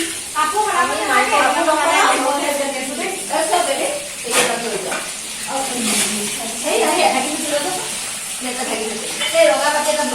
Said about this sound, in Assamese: চাই দিয়ক মাছ ভাজি আছে